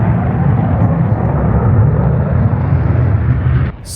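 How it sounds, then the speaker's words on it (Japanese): Loud, steady low roar of a jet aircraft near an airport in Okinawa, Japan filling the scene, dense and rumbling, cutting off abruptly near the end. "すごい爆音だなと思ったらね、飛行機のジャンルが違いましたね"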